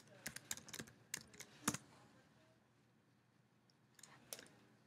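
Computer keyboard typing while entering MATLAB commands: a quick burst of sharp, close key clicks, a pause, then a few more keystrokes, faint and with no talking.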